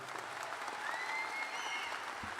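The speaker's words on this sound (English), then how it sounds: "Please join me in a round of applause for one of the great educational leaders in the United States, President Joe Bertolino." Applause at a university undergraduate commencement, a steady wash of crowd clapping heard from a distance, even in level, with a few faint whistles and cheers mixed in.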